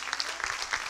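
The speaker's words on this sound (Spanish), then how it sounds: "¿Cuántos le dan un aplauso al Señor?" A church congregation at a Sunday service applauds, a brief, dense burst of many hands clapping together at moderate volume.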